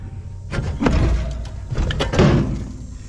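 A car door at a scrapyard is pushed shut with a couple of heavy metallic thuds and rattles, close by and fairly loud, with no talk over it.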